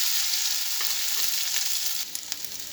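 Mashed potatoes hit hot oil with whole cumin and sizzle steadily up close, with some stirring scrapes toward the end and no voices.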